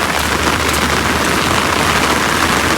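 Heavy rain pouring down in the Maldives, a dense, loud, unbroken hiss of drops striking surfaces with no pauses.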